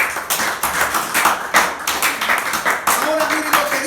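Church congregation applauding at a sermon, a dense patter of many hands clapping steadily, with voices mixed into the crowd noise.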